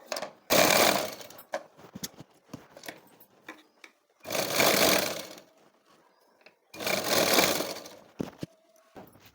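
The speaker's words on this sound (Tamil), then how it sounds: "இப்போ இதில் ஒரு தையல் போட்டுடலாம்." Sewing machine stitching folded blouse fabric in three separate runs of rapid mechanical whirring, each a few seconds long, with quiet clicks and handling noise between, close.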